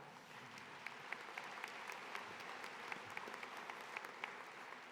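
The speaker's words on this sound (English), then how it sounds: "So give yourself a big round of applause." Graduation audience in a high school ceremony applauding, a fairly soft, distant wash of many hands clapping with a few sharper individual claps standing out, continuous for five seconds.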